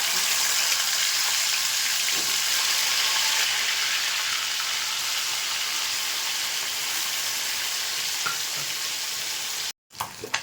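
Small pona fish sizzles hard in hot refined oil in a kadai, a loud, steady frying hiss that continues unbroken before cutting out briefly near the end.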